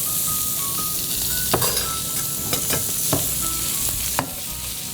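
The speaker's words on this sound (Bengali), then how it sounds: "জাস্ট টস করব বাটার দিয়ে।" Prawns fry in butter in a pan with a continuous close sizzle, while several sharp clinks and scrapes of tossing and stirring break through at irregular intervals.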